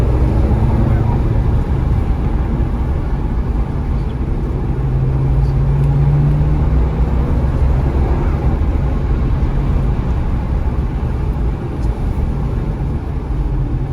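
A rare Maserati's engine drones loud and steady from inside the cabin as the driver double-clutches through the gears, with a brief rise in pitch partway through.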